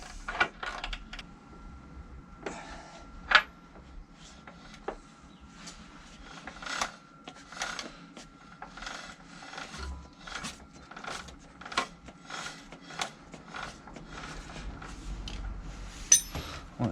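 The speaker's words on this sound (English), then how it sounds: "make sure your wheel's all the way forward and just tighten the axle nut" A motorcycle rear axle nut is tightened by hand with a wrench, giving a series of quiet close clicks, ratchet ticks and metallic taps at an irregular pace.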